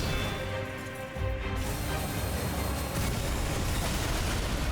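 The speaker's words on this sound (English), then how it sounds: "Oh, there's an extra explosion after that." A loud, dense roar of explosive crashing after an attack in Elden Ring, filling the whole stretch with sustained noisy rumble that swells slightly partway through.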